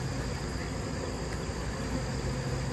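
Honeybees swarm around a hive in a dense, steady buzzing hum that holds at an even level throughout, close by, with no voices.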